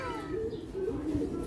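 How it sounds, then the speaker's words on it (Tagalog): Low, soft cooing from a De Bruxel racing pigeon hen in a breeding loft, a steady rumbling coo repeated through the clip at close range with no talk over it. "Ito yung ibon ni Sir Romy Liwag."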